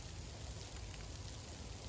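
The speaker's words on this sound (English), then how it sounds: "pouring rain." Pouring rain hisses in a dense, even wash during a cold New England day with freezing rain, steady and unbroken with no voices.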